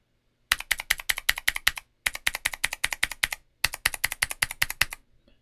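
Typing on a keyboard fitted with Outemu Jerry clicky switches: three quick bursts of crisp, sharp clicking keystrokes, close and loud, with short pauses between runs and no talk.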